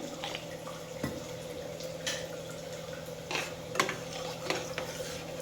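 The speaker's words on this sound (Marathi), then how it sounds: "आता मी यात थोडे पाणी टाकून घेणार आहे" Stirring and a trickle of water go into cooked dal (varan) in a kitchen, with soft clinks of a utensil against the pot and faint splashing over a steady background hum, quiet and close.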